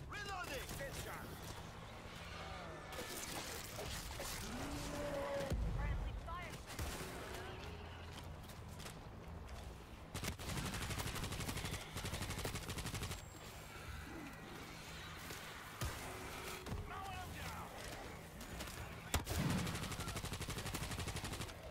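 Rapid gunfire in a shooter video game, steady volleys and bursts running continuously under players talking.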